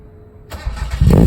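Mazda Miata with a new exhaust cranks and fires up, a short starter whir followed by the engine catching and rising to a loud, throaty idle close by.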